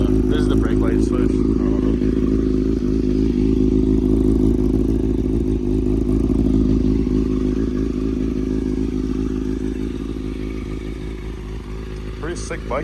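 A 2017 Badass Industries 636 sport motorcycle idles steadily while warming up, a close, even engine rumble that eases slightly toward the end, with a few faint clicks and background noise.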